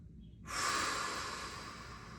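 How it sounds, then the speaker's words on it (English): A single long exhale of focused breathing, a soft airy rush out through the mouth after a quiet pause, close and steady before slowly fading. "Inhale through your nose. Exhale through your mouth."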